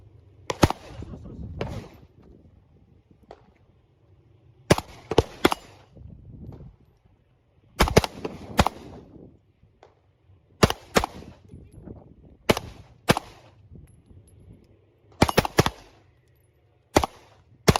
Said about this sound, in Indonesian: Tinggal tembak aja, tembak.